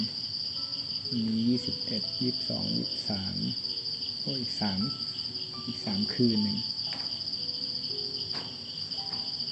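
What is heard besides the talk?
crickets chirping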